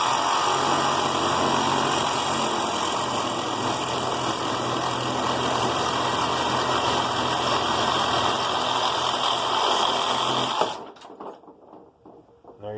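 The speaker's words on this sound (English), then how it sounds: "so I got my reciprocating saw ready to go. Battery operated." A battery-operated reciprocating saw cuts through metal clamped in a vise, giving a loud, continuous buzzing rasp close by for about ten seconds before stopping abruptly.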